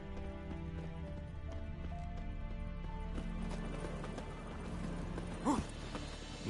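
A horse's hooves clip-clop in The Witcher 3, a rhythmic thudding beneath a steady game music and ambience bed, with a louder clunk near the end.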